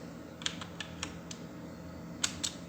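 Computer keyboard keys tapped one by one while entering text into an Excel spreadsheet, sparse clicks with irregular gaps, close and quiet over a steady background hum.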